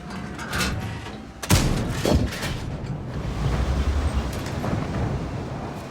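A heavy tank cannon blast in a video game booms once, followed by a second duller thud and a lingering rumbling, rolling ambience.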